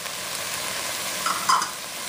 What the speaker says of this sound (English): I'm gonna give that a nice little stir.